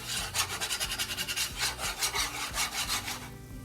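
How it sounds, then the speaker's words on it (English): Flour being stirred around a hot pan over medium-high heat, a steady rhythmic scraping and rubbing that repeats quickly and loudly, close up with no talking. "Just focus on combining it and stirring it around so it does not burn."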